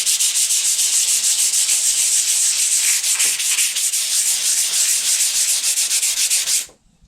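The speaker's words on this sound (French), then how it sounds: "Donc là, vous allez voir, je vais poncer." Varnish coat on a pinball cabinet being sanded by hand, a close, rapid rhythmic scratching of back-and-forth strokes that runs steadily and then stops abruptly.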